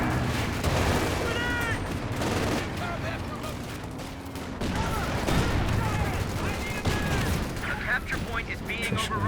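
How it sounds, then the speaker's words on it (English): Rocket artillery fire in a Company of Heroes 2 2v2 match rumbles as dense, continuous battlefield bursts and booms, with a commentator talking over the clamor throughout. "Dodging rocket artillery has to be your forte at this level of play."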